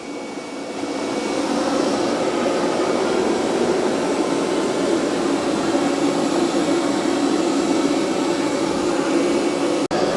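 A Roborock Q5+ robot vacuum running on higher suction gives a steady, loud whooshing hum close by after a short ramp-up, with no talking.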